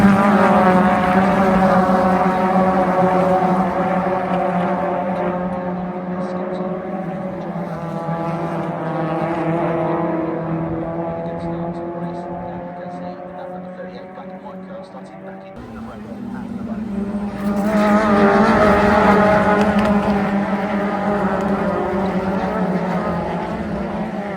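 Touring cars racing at Donington Park in a BTCC round, engines droning loudly with harmonic whine that rises and falls as cars pass, a brief dip before another surge, with commentary voices over the racket.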